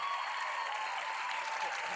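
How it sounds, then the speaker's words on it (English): A studio audience at the TV dance competition Dancing With The Stars NZ claps steadily and loudly throughout, a dense wash of applause with no pauses. "let's have a big round of applause for these guys, Ben and Crystal."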